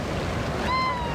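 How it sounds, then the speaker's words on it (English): Ocean surf washes steadily onto the beach at Belmont, San Diego, a broad continuous roar with wind buffeting the microphone and a brief whistle-like tone near the end. "See how close the waves are?"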